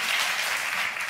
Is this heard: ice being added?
no